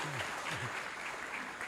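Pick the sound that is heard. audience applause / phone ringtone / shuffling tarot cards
audience applause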